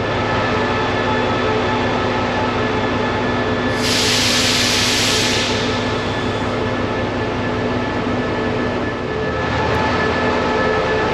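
An overnight train from Chiang Mai to Bangkok rumbles steadily along the rails with a constant droning hum, loud and close, and a brief hissing rush partway through.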